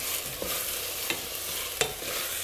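Onions and carrots sizzle in hot oil in a pan, a steady frying hiss broken by a few soft scrapes and clacks of a spoon stirring, close and without speech.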